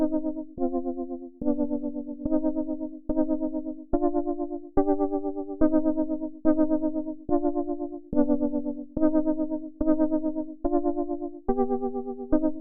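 A simple chord progression for a drill beat plays as bright synth chords with distortion and chorus effects, struck in a steady repeating rhythm of about a dozen evenly spaced hits, with no other instruments.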